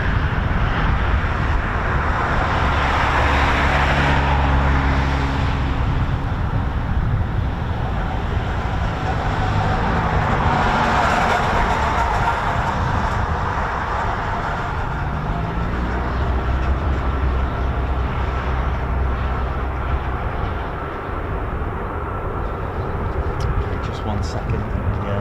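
A KC-135 Stratotanker's engines spool up while taxiing at an RAF base, a broad distant roar that swells and shifts in pitch, heard under ongoing outdoor talk.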